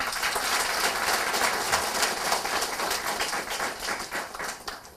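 A seated audience claps together at an award event in Thailand, a dense, steady patter of many hands that stays fairly even and fades slightly toward the end, with no voices over it.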